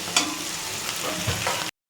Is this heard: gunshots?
no